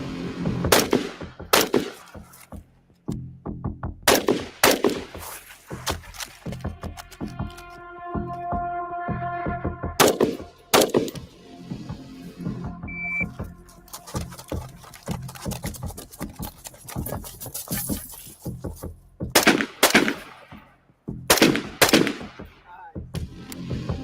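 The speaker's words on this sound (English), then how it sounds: "use real guns during CQB training inside of a shoot house" Real rifles and pistols fire during close-quarters training inside a shoot house, in sharp single shots and rapid bursts with echoing gaps, loud and close.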